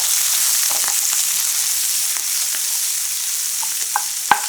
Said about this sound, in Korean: 꽈리고추를 모두 넣고 양파, 당근 넣고 골고루 한번 섞어준 후